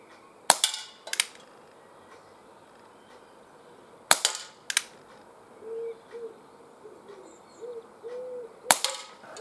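A Schofield revolver with a 6-inch barrel fired outdoors, four sharp, loud shots spaced a few seconds apart, each with a short crack and a quick echo. Faint birdsong carries on in the quiet gaps between them.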